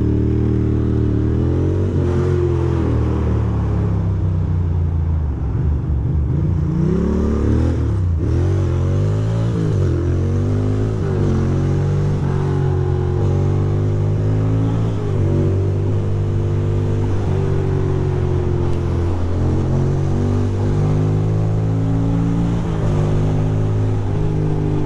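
A Ducati motorcycle engine revving while riding through New York City, a loud continuous throttle roar rising and falling with repeated shifts over wind noise, close to the rider.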